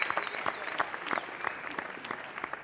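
An award show audience applauds the evening's interpreter, with clapping that is fairly close and somewhat sparse, while a high whistle-like tone sweeps briefly over the applause.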